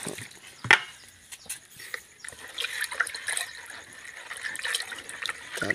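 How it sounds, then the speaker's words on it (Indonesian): Water runs and trickles into a spray tank outdoors, a faint steady flow with scattered clanks and knocks, no talking. "Kita isi lagi agar dia pada saat kita melakukan pengocoran nanti penuh"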